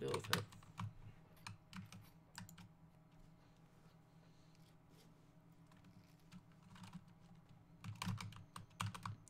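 Clicky switches on a Razer Huntsman TKL keyboard clatter in quick bursts of typing while gaming, close and fairly quiet, with pauses between flurries and a voice talking faintly in the background.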